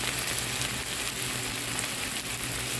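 Carrots and two kinds of capsicum fry with ginger, garlic and onion in a pan, giving a steady, close, even sizzle with no voices.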